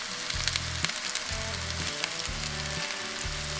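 Venison meatballs frying in a pan over medium heat, giving a loud, continuous crackling sizzle with an even hiss throughout and no voices.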